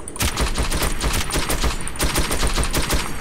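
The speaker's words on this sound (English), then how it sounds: "you can fire this as fast as you can pull the trigger" Rapid gunfire from a weapon in the video game Metro 2033, a dense, loud string of shots fired as fast as the trigger is pulled, continuing steadily for about three seconds.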